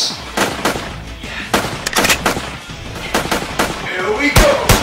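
Rapid bursts of gunfire sound effects from a homemade action movie, loud sharp cracks in uneven volleys across the clip, with no talk over them.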